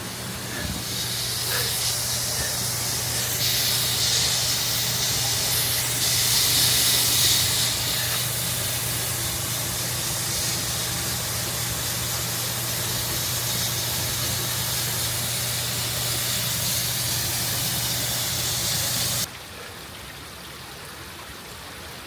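A garden pond fountain sprays water steadily and close. Its broad hiss swells slightly partway through and is joined by a low steady pump hum. Near the end the spray drops away sharply, leaving a softer wash of water.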